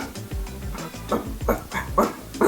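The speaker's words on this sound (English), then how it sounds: "And he'll do this quiet woofing, like this." A Samoyed dog asleep gives a run of soft, low woofs and muffled grunting barks, about five short bursts in an uneven rhythm, close by and fairly quiet, with no talking.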